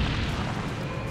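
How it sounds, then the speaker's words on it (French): A low, rumbling explosion effect from a Jujutsu Kaisen anime scene, a steady heavy boom filling the whole moment with no voices over it. "Arrivant sur les lieux, nos héros seront surpris par une explosion."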